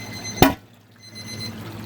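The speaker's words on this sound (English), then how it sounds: "we're gonna quieten these alarms" Maverick thermometer alarms on a Barrel House Cooker during a rib cook keep up a steady high electronic beeping, broken by one sharp close click as they are silenced.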